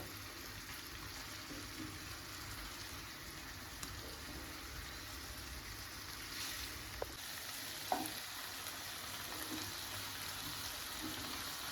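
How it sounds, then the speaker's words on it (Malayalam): Chicken pieces frying on a tawa, a steady soft sizzle with occasional light stirring clinks and taps, moderately quiet and continuous. "അങ്ങനെ മറിച്ചിട്ട് കൊടുത്തിട്ട് നമുക്ക് ഫ്രൈ ചെയ്തെടുക്കാം കേട്ടോ"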